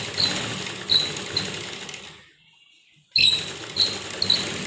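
An electric sewing machine stitches a suit seam, joining shoulder and armhole, in close, rapid rattling bursts that pause for about a second before resuming.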